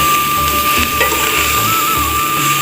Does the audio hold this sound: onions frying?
yes